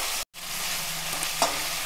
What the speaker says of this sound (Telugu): అల్లం వెల్లుల్లి పేస్ట్ వేసిన తర్వాత కొంచెం వేగనిద్దామండి